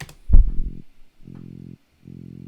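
A dubstep top bass synth patch, saturated and EQ'd, plays three short, growling low notes in a stop-start rhythm after a brief thump at the start.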